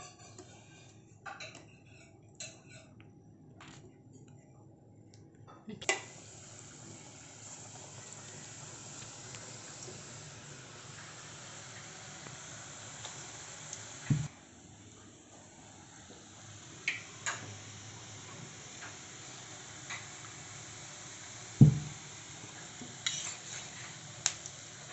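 Paneer batata vada in gram-flour batter fry in hot oil with a soft, steady sizzle and faint hiss, broken by scattered utensil clicks and a few sharper knocks.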